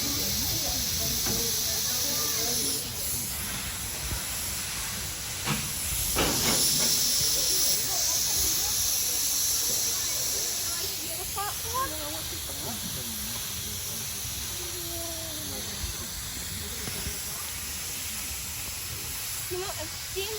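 A steam locomotive releases a steady, broad hiss of steam that runs loud and continuous throughout, with a brief surge in the middle and faint background noise.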